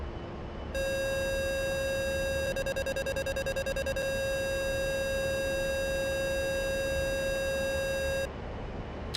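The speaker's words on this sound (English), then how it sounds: "It's the beeping that it's the beep beep beep beep beep that lets you know you're about to stall." A stall warning tone sounds in the A-10C II aircraft of the DCS flight simulator, a loud sustained electronic beep that briefly pulses rapidly before holding steady, then cuts off.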